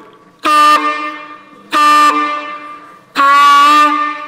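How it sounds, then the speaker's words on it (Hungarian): A homemade fan horn made from a balloon and a tube, blown three times in loud, brassy blasts, each honk lasting under a second with short gaps between. "amint látják, egészen nagy dudát, duda hangot lehet csinálni"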